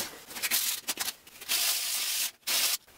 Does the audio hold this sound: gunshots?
no